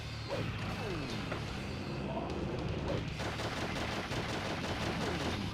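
Gunfire in the 2005 game Shadow the Hedgehog crackles in rapid repeated shots over a dense mechanical game soundscape, loud and continuous, with a voice talking briefly among it.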